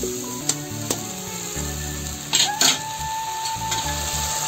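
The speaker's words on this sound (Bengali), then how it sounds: "এই মশলাটা ভালো করে কষাই নেবো।" A masala with one tomato and five green chillies fries in a pan with a continuous close sizzle, punctuated by a few sharp spoon taps and scrapes, with music playing underneath.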